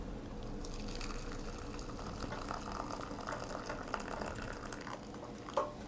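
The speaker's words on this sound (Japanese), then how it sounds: "お湯が沸きましたよ。 はい。 もう入れちゃうよ。 よくかき混ぜてね。" Hot water from a just-boiled pot poured into a dish and stirred in a home kitchen, a steady close watery rush and gurgle with faint clinks, ending in a brief louder knock.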